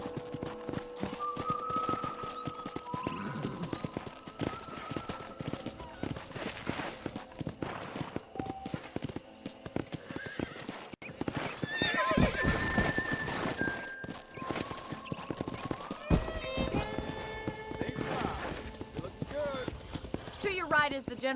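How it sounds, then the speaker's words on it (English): Horse hoofbeats in the video game Red Dead Redemption on Switch: a steady clip-clop of riding over ground with a brief whinny, while a character talks over it and ambient game music and sounds play underneath. "let's see if you can still ride a horse"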